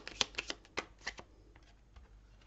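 A deck of tarot cards is riffled and shuffled close by for a reading, a quick run of soft flapping snaps in the first second and a half, then quieter, sparse card rustles.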